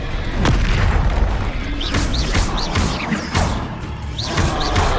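Confringo spell blasts go off in the Hogwarts Legacy video game, several loud booming impacts with whooshes in quick succession amid combat noise.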